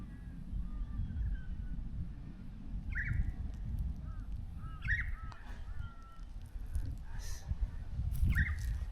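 Young wild birds by a roadside give several short honking calls, faint and scattered over a low rumbling background.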